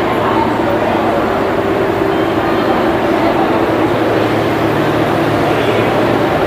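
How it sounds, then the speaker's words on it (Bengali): A Shalimar–Puri superfast express rolls into platform 2 at a station, with a loud, steady rumble of wheels and engine close by and filling the whole stretch, with crowd murmur blended in. "ঘড়িতে সময় হচ্ছে 8:10 আর ট্রেন আমাদের ঢুকছে 2 নম্বর প্ল্যাটফর্মে।"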